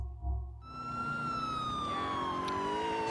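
Police car siren from the video game GTA IV, a loud continuous wail that starts abruptly after a brief low rumble and holds steady with a slowly falling pitch for the rest of the clip.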